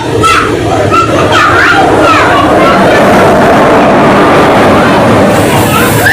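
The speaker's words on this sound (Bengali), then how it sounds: "WAP-4 engine." A WAP-4 electric locomotive hauls a local train past during a crossing at Chowrigachha station, a loud, continuous rumble of passing rail traffic with faint clatter throughout, filling the whole stretch at close range.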